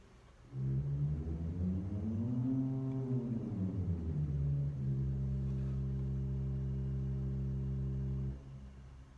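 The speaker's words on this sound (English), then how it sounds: "the first octave of the open diapason rank" Deep pipe-organ tones from the open diapason rank's lowest octave sound one after another in a basilica, low and sustained, with a bending transition before a long steady held note.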